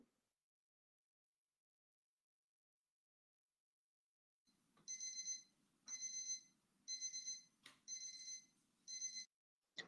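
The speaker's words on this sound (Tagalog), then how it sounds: "kapag malapit nang maubos ang oras, maririnig ang kanyang alarm" A digital timer alarm goes off as time runs out, sounding bursts of bright, high beeping in a repeating on-off rhythm after several seconds of silence, quiet and clear with no talking.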